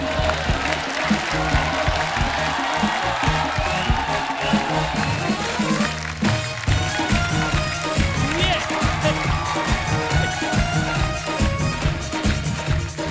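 A studio audience at The Kapil Sharma Show, a comedy talk show, claps loudly and continuously as a guest enters, with voices and other stage sound mixed in.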